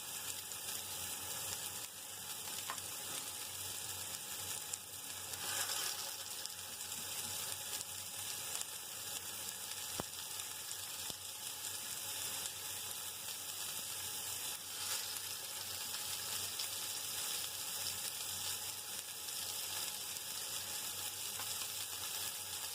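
Continuous bright sizzle of sardine kofta frying in a little oil in a pan, steady and close, with occasional small pops and a faint clink, no speech.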